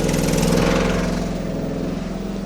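A running inverter generator engine, charging a LiFePO4 battery bank, holds a steady, loud, even drone with a low throbbing hum and no talk.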